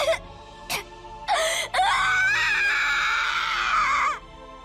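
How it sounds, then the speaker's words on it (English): Rosa, a character in the visual novel Umineko When They Cry, lets out a loud, sustained scream lasting a few seconds, preceded by short sharp cries, alone without talk. "A scream from Rosa."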